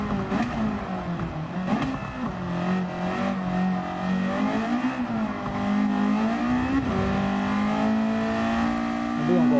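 A race car engine in a racing video game revs and climbs through gears, its pitch rising and dipping repeatedly over several seconds, loud and close with a steady whirring drone throughout.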